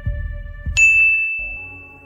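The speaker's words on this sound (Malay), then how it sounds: "Dan masa itulah saya nampak mesej daripada Kira masuk." A phone chimes a single bright ding for an incoming message, ringing out and slowly fading after a couple of soft low thumps at the start.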